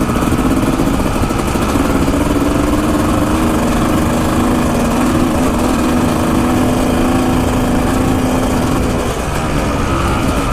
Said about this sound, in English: not only do you get that sweet sound from the two-stroke